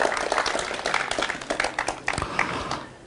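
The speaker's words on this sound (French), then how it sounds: "un tonnerre d'applaudissements pour Younous et Mouna" Audience applause for performers Younous and Mouna at a French spoken-word show, a dense, steady wash of many hands clapping throughout with a few sharper individual claps poking through.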